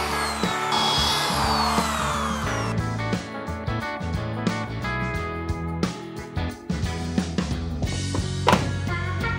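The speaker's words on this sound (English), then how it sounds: "Got some more rivets to drill out on this side" Rivets are drilled out of a mini school bus body panel during a roof-raise teardown: a whining drill bit grinds through metal, followed by a series of sharp clanks and knocks as the work continues, close and loud.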